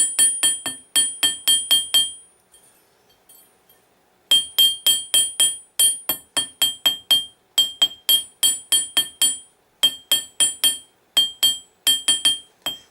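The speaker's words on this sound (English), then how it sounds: "we want to take our hammer and we're going to flatten it just a little bit" Hammer flattening thin 18-gauge silver wire for a beginner's pendant: rapid bright metallic taps in quick bursts of several strikes, a short pause, then more runs of ringing close-up blows, no talking.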